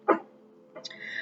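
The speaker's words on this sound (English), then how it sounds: "I do apologize for my dog in the background." A dog gives a short bark and then a higher yip, faint and in the background of a quiet room.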